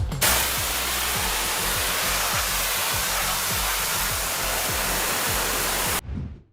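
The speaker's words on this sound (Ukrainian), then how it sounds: "Лишилось тільки перевірити його на захист від води, попередньо закривши всі заглушки." Water pours steadily over an Oscal S60 rugged smartphone in a water-resistance test, a dense hissing splash lasting several seconds close to the microphone, then stopping abruptly with a brief trailing drip.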